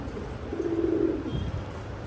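A laldom or kaldom pigeon gives a soft, low coo lasting about half a second, faint against quiet background hiss, with no talk.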